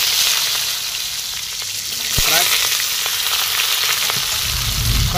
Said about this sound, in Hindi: ये कढ़ाई हम लोग चढ़ा दिए हैं चूल्हा पे, और तेल भी हमारा गर्म हो गया है। तो ये परवल को थोड़ा फ्राई कर लेते हैं